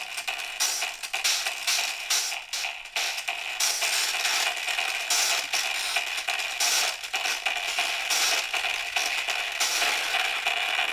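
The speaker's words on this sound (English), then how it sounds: "This is what it's like set on fire with Nikola." Techno track run through the Nikola Tesla coil plugin, a harsh, fizzy, crackling high-frequency buzz with the bass stripped out, loud and continuous with pulsing bursts, no talking.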